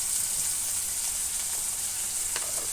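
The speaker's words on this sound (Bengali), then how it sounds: "মশলাটা আমি এখন কষতে থাকব।" Spice paste sautéing in a hot pan while cauliflower bharta is being made: a steady, close sizzle that runs throughout, with a brief stirring scrape near the end.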